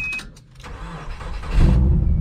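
Car left sitting in the woods for a long time, likely with a new battery, cranking briefly and then catching, its engine rising into a loud, rough idle close by.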